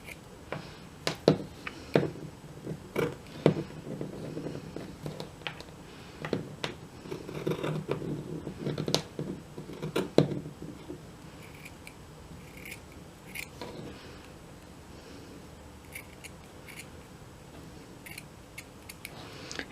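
Scissors snip through black lace in a run of close, sharp clicks, dense at first and then thinning out into sparser cuts and faint rustling.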